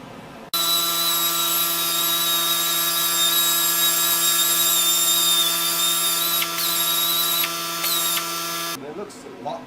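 Power sander grinding and polishing a granite countertop edge, a steady high-pitched whine with strong harmonics that starts abruptly and runs continuously for about eight seconds before cutting off, a few brief pitch dips along the way.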